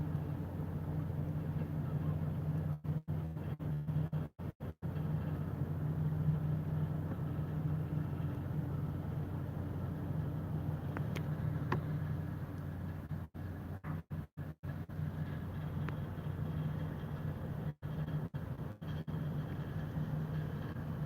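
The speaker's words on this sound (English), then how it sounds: "this is a barge converted into like a slash freighter" Engine of a barge converted into a freighter on the St. Marys River, a steady low droning hum that holds throughout, heard from a distance across the water, with occasional brief dropouts.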